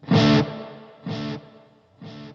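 An electric guitar played through a Blackstar AMPED 2 amp with delay rings out in three distorted bursts, each chord fading into a repeating tail before the next strike.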